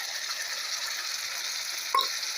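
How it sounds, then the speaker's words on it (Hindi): Tomato puree frying with onion in a pan for a restaurant-style kadhai paneer, a steady close sizzle with a brief clink or stir near the end, no talking. "इस प्याज के साथ तब तक भूनेंगे जब तक कि इससे तेल ना अलग होने लगे"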